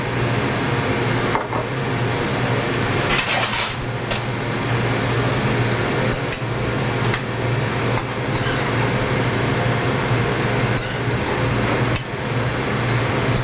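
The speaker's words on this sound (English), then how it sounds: "I'm just mixing it up so that everything, I just make sure that everything gets the curry" Curry with heavy cream is stirred in a pot, with scattered clinks and scrapes of a utensil against the metal over a constant low mechanical hum.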